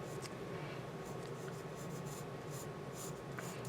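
A pencil draws very lightly on a paper eye-plotting worksheet, producing a steady, soft, close scratching that runs continuously with no pauses.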